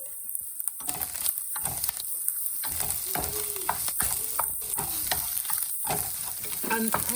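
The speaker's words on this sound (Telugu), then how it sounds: "1 స్పూన్ కారం వేసుకొని కలుపుకోవాలి. ఒక 1 minute వరకు ఫ్రై చేసుకోవాలి." Egg and spinach frying with chili powder in a pan, a continuous sizzle broken by repeated stirring scrapes and spatula taps, close and fairly loud, no talking.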